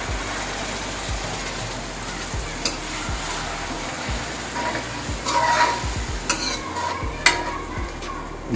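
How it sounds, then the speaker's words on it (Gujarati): Buttermilk is stirred into a Gujarati tempered rotla in a pan over low gas heat, with steady scraping strokes and a soft sizzle under a constant low hum, plus a few sharper clinks. "છાશ એડ કરવાની."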